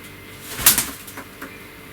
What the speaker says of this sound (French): ce qu'on vient d'entendre, c'est un pigeon qui est rentré dans la cuisine et qui est au sol là